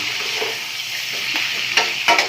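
Pork stir-fried with dark soy sauce in a hot pan hisses in a steady close sizzle, with a few sharp scrapes and clinks of the spatula near the end.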